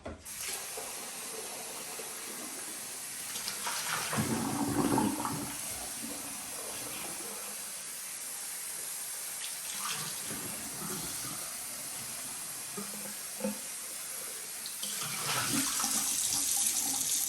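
Tap water runs over freshly boiled eggs to cool them for easier peeling, a steady splashing stream at close range that swells louder around the middle and again near the end, with no one speaking.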